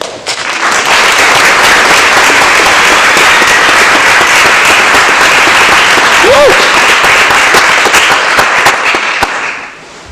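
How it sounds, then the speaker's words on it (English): Loud, dense audience applause at an arts summit keynote fills the hall for the speaker's introduction, steady for several seconds before tapering off at the end, with faint voices and a brief whistle. "Round of applause for Kiki Wilson"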